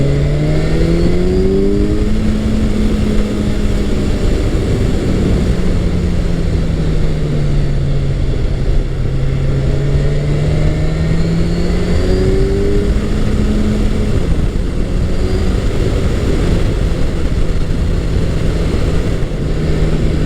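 A Kawasaki Ninja 1000SX motorcycle on a Pennsylvania country road gives a loud, continuous engine note close by, rising through the gears and settling into a steady cruise over wind rush.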